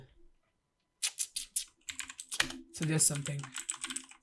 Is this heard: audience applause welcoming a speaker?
no